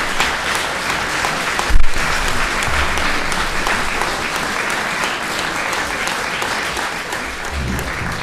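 Loud, steady applause from a concert audience greeting a Slovenian men's choir at the 85th-anniversary jubilee concert of a male choir, dense clapping sustained throughout with a brief louder burst near the start.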